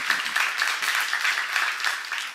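A church congregation breaks into brief, even applause, many hands clapping together at moderate volume across the room.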